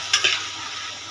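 An egg drops into a hot pan of tadka for a restaurant-style egg tadka, a short sizzle and spatter with a couple of sharp crackles over steady frying.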